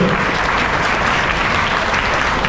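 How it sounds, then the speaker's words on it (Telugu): An audience at a religious gathering applauds in a steady, dense burst of clapping, close and continuous for a couple of seconds with no speech. "చప్పట్లు కొట్టడానికి మొహమాట పడద్దు"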